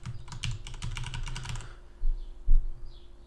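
Fast typing on a computer keyboard, a rapid run of close clicks that stops partway through, followed by two louder thumps in a quiet room.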